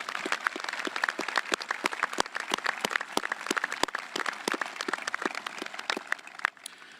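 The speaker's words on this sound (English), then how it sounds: "So I would like to give them another round of applause because they certainly deserve it." Steady, dense applause from the audience at a 2021 high school graduation ceremony in De Soto, Missouri, a continuous patter of many hands that fades slightly at the end.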